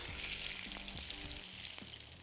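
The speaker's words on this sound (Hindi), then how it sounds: "साथ में इसके ऊपर डाल देंगे बारीक कटी हुई अदरक, और ये आ गया इसका तड़का" A tadka with finely chopped ginger sizzles in hot oil, a steady crackling hiss at low level with a few soft stirring clinks, with no voices.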